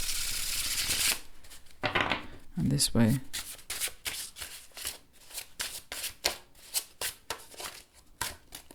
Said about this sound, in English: let me just show you the shuffle real quick